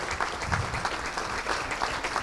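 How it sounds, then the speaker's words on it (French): Audience applauding at the closing session of an annual gathering, dense steady clapping from many people, moderately loud and continuous with no talk. "on peut applaudir très fort l'équipe de l'Hérault qui s'est proposée"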